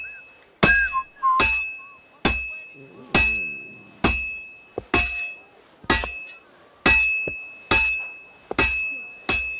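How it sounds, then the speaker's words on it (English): Repeated metal hammer strikes on a blacksmith's anvil in Kingdom Come: Deliverance II, about a dozen sharp ringing clangs at a steady, slightly uneven rhythm, each with a bright metallic decay, close and loud, with no talk. "I have to hammer it more evenly."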